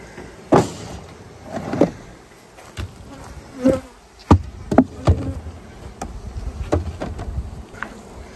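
Honey bees buzzing in a bee yard during a honey harvest, returned pollination bees flying past in repeated loud close passes over a quieter background hum, with no talking.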